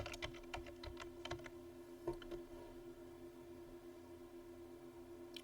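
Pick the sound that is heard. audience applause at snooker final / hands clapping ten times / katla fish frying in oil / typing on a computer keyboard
typing on a computer keyboard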